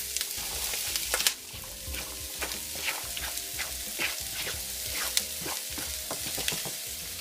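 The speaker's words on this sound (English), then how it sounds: "Now we're going to go ahead and put in our celery and onions. Get those sauteing." Celery and onions sauté in hot oil with a loud, steady crackling sizzle and a regular rhythm of stirring scrapes and taps.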